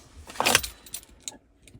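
Car keys for a 2018 Mitsubishi L200 pickup, including canopy keys, jangle in one brief clinking shake followed by a few light metallic taps, quiet and close.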